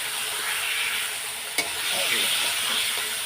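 Potatoes sautéing in a pan with ground ginger, cumin, Kashmiri chilli powder, turmeric and green chilli paste, a steady close sizzle with stirring scrapes and a single sharp clink, no talking.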